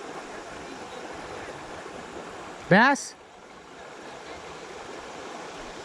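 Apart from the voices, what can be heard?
river with a waterfall flowing into a deep pocket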